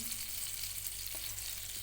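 Margarine melting and sizzling in a hot pan at the start of making fried rice with shrimp paste, a steady soft frying hiss running evenly throughout with no talking.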